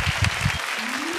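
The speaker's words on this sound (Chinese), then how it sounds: "给他掌声鼓励一下" A studio audience on a Taiwanese talk show breaks into a short, full burst of applause lasting about a second, with no voices over it.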